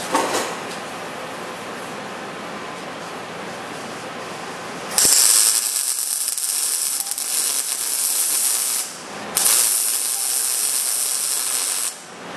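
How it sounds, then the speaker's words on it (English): Welding through weld-thru primer on steel, heard as loud crackling, hissing bursts in two long runs with a short pause between them, the arc cutting out at the end. "see if I can burn it off, and it's probably going to pop and spatter"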